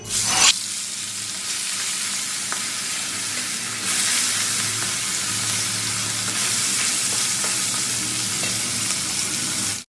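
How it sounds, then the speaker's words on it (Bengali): Fish fries in a pan with a steady, loud sizzle that runs unbroken for the whole stretch, swelling slightly at times, with no talking. "আর এখন মাছটা ভেজে নেব।"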